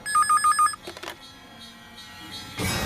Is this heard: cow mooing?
no